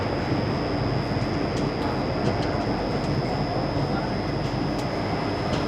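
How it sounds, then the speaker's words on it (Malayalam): Jan Shatabdi Express train rolling into Shoranur junction toward platform 7, a steady, loud rumble of carriages with a continuous high whine and faint rhythmic wheel clicks, with no let-up throughout. "നമ്മൾ ഷൊർണൂരിലെ പ്ലാറ്റ്ഫോം 7ലേക്ക് എത്തിയിരിക്കുകയാണ്"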